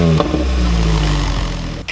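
A hot hatch track car engine revs loudly nearby through a new exhaust manifold, a deep throaty exhaust rumble that holds steady, then breaks off with a sharp backfire pop at the end.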